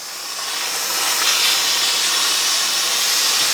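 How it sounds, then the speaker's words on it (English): A Bissell Power Steamer heavy-duty steam cleaner lets out a steady, loud hiss of steam that swells over the first second and then holds evenly, close up with no talking. "So first, let's heat it up with the steam."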